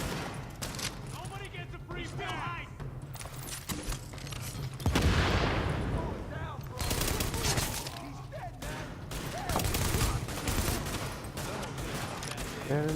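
Gunfire in The Division video game: repeated shots and bursts of automatic fire at close range, with a louder blast midway, heard over voices speaking.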